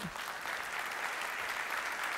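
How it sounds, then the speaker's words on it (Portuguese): A church congregation applauds in a steady, even patter, heard at a moderate distance and without any voice over it. "Quer aplaudir? Pode aplaudir sim."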